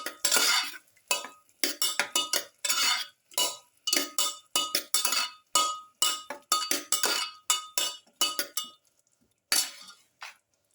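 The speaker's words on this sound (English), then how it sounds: "Mix thoroughly." Ingredients for a pepper garlic beef stew are mixed in a bowl: a rapid run of close metallic clinks and scrapes as a utensil strikes the sides, in uneven bursts with short pauses.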